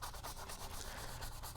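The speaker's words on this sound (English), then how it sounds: "I'm just blocking this in, kind of scrubbing it in to the canvas" A paintbrush scrubs paint into a canvas in soft, rhythmic rubbing strokes. The sound is faint and close, with no voices.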